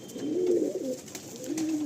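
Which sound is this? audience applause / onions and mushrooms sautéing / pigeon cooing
pigeon cooing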